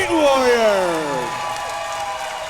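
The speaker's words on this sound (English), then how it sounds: "a big round of applause for both of these super heavyweight warriors" A crowd at a super heavyweight fight applauds and cheers loudly after a bout, while an announcer's amplified voice speaks over the noise in the first second before it trails off, leaving steady clapping and crowd noise.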